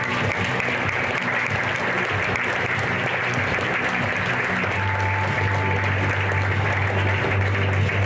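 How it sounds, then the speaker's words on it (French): An audience gives sustained, even applause as medal winners climb to the podium at a 2018 sporting ceremony in Lamotte, a dense wash of clapping from start to finish with faint voices under it. "je vous demanderai une ovation pour celles qui ont été les meilleures cette année"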